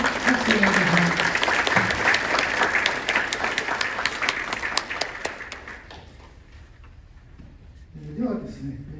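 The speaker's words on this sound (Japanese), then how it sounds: "もう一度拍手をお願いします。" A room full of people at a symposium applauds steadily for several seconds, the clapping fading out, then a voice begins speaking in Japanese.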